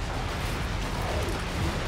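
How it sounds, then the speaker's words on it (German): Distant artillery shots land in the strategy video game Redcon, a dull rumbling roar of impacts blending into a continuous low, noisy wash over a couple of seconds. "Da kommen noch die letzten Schüsse an."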